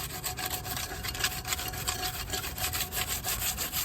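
A burnt pot is scrubbed with grass and dirt in quick, rhythmic rasping strokes, close and fairly soft, with no talking.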